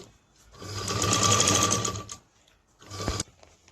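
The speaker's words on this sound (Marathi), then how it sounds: "इथून मी दाबशिलाई मारून घेते" A sewing machine runs a burst of top stitching along a handbag, whirring steadily for about two seconds, pausing, then stitching again briefly, close and clear.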